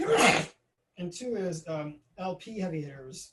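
A single loud, noisy sneeze bursts out at the very start of a lecture, then a voice carries on speaking clearly.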